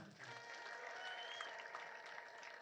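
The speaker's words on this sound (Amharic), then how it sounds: "እስቲ አጨብጭቡላቸው።" An audience applauds visitors from nearby towns at a prayer gathering in Gondar, a sustained, faint, distant spread of clapping with a few voices blended in.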